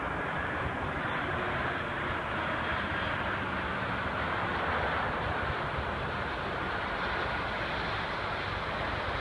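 A German Flugbereitschaft Airbus A340 gives off a continuous broad jet-engine roar, steady and fairly loud, with no talk over it.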